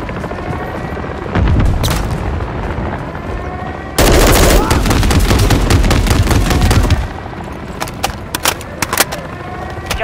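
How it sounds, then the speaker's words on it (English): Mounted machine gun fire from an armored vehicle in the video game Call of Duty Modern Warfare 3: dense, loud bursts and heavy booms that surge to a peak mid-battle, then trail off into scattered sharp shots. "got a mounted MG coming your way on an armored vehicle"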